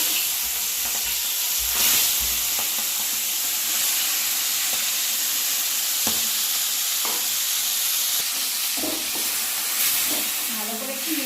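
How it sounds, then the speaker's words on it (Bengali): Tiger prawns dropped into hot oil for a Bengali bottle gourd and prawn dish, giving a loud, continuous sizzle and crackle with occasional pops and stirring scrapes, close by and steady throughout. "এবার এই তেলের মধ্যে বাগদা চিংড়ি মাছগুলোকে আমি ভেজে নেব।"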